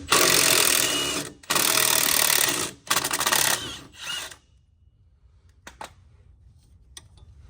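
A ratchet wrench removes 9/16 sway bar bolts on a 2014–2018 GM crew cab truck, running in three loud, close bursts separated by short pauses, then a few faint clicks in near silence.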